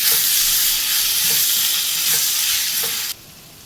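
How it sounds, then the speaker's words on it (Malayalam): Chopped tomatoes sautéing in a pan for a capsicum masala, with a loud steady sizzle and a few spoon stirs before it drops off abruptly near the end. "ഇനി ഇതിലേക്ക് നമുക്ക് അരിഞ്ഞു വെച്ചിരിക്കുന്ന തക്കാളിയും കൂടെ ചേർത്ത് വഴറ്റിയെടുക്കാം."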